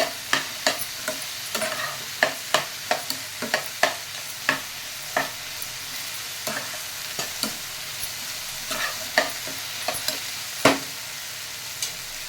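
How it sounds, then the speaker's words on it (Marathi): Sliced okra stir-fries in a pan over a high flame, a constant close sizzle broken by a long run of sharp spatula scrapes and knocks against the metal. "भेंडी चांगली 2 मिनिटं परतून घ्या। गॅसची फ्लेम हाय ठेवा।"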